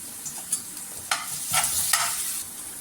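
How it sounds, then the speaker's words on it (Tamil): Ginger garlic paste sautéing in a pan for raw banana rice, heard as a soft sizzle with several scraping stirs of a spoon, close and alone without speech. "கொஞ்சோண்டு இஞ்சி பூண்டு பேஸ்ட்டு போட்டு பச்சை வாசம் போகிற வரைக்கும் வதக்கிக்கலாம்"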